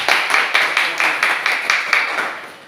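A class of primary school students claps in a rhythmic pattern of about a dozen sharp, evenly spaced bursts. The sound is moderately close and fades slightly at the end.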